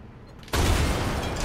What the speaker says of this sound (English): That's the cannon.